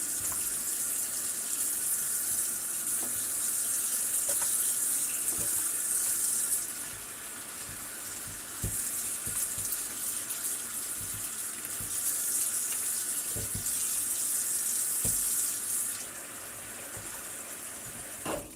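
Tap water runs steadily over homemade butter made from heavy whipping cream as it is rinsed of buttermilk in a sink, with a loud continuous hiss, occasional splashes and knocks, and a brief dip in flow partway through.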